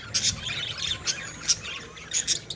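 Pet lovebirds from a boss's bird collection give a series of short, bright chirps and tweets, several quick calls spaced irregularly, moderately faint against a soft background.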